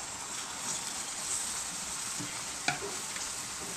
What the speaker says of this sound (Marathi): एकदा ढवळून घेऊया।